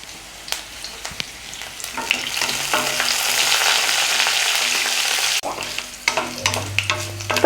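Curry leaves fry in hot oil for Chettinad kara chutney, a steady, fairly loud sizzle running throughout with spatters and sharp crackles, and a few stirring scrapes near the end.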